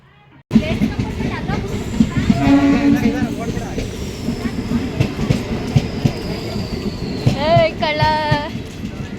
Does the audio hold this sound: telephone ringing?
no